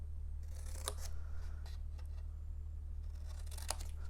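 Scissors snip through paper box material in a few quick, close, crisp cuts over a low steady hum.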